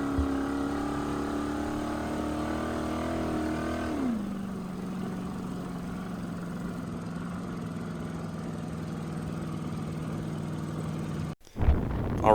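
A dune buggy fitted with junkyard Prius power steering hums with a steady engine drone while driving offroad; the pitch drops as it settles to a lower, even idle-like tone, then a sharp bump cuts in near the end.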